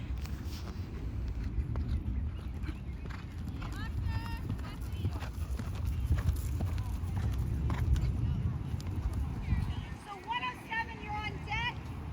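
A Thoroughbred horse's hooves clip-clop at a rolling canter while being ridden over a jumping course, steady rhythmic footfalls under ongoing wind and outdoor noise, with a voice talking over it.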